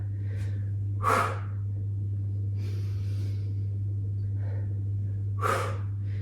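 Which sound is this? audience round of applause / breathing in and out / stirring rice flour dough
breathing in and out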